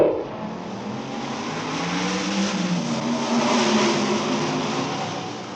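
Formula 1 race cars at the 1962 Monaco Grand Prix roar past, a loud sustained engine snarl that swells to a peak mid-clip and eases off, with no voices.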